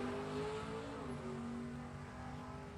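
A 1967 Mustang drag car makes a run at a C-Gas heritage drag race, a distant engine roar whose pitch climbs and dips through gear changes, faint and continuous with no talk over it.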